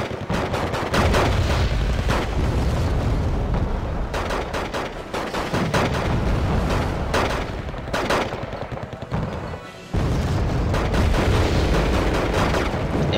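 F-11F bombs exploding in Wargame: Red Dragon: a loud, continuous barrage of booming blasts and rattling gunfire that fills the whole stretch, dipping briefly before surging back at full strength.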